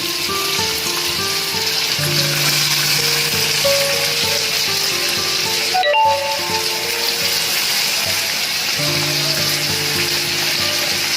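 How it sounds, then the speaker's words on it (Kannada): Chopped cabbage frying in a pan while making upma, a loud, steady, close sizzle that runs without a break, with faint tonal sounds in the background and no speech. "ಫ್ರೈ ಆಗ್ತಾ ಇದೆ ಆಮೇಲೆ ಇಲ್ಲಿ ಹೆಚ್ಚಿಟ್ಟಿರೋ ಕೋಸನ್ನು ಹಾಕ್ಕೊತೀನಿ"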